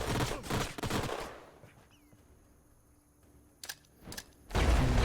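A grenade bursts in the sci-fi strategy game Age of Wonders: Planetfall as a loud crackling blast that falls into a quiet lull, broken by two sharp snaps before another loud burst at the end.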